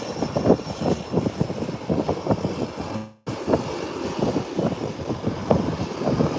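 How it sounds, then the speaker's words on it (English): A Twin Otter propeller plane taxiing toward the runway at an airport: a steady, fairly loud engine drone with a rumbling, fluttering texture that cuts out sharply for a moment midway, then resumes. "the Twin Otter is now moving, taxiing away, heading to the runway."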